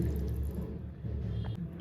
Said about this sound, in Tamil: அதுக்கு தண்ணி ஆட் பண்ண போகிறேன்